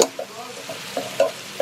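A spoon stirs a Middle Eastern dish in a pan, giving a soft sizzle with a few light taps and scrapes against the metal, close by and fairly quiet.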